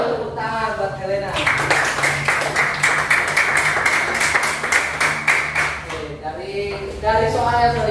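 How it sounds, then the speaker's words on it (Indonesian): A classroom of students claps for Helena in a loud, rapid burst lasting about five seconds, with voices heard just before and after the clapping. "Tepuk tangan buat Helena."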